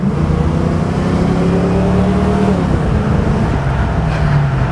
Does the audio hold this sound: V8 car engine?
yes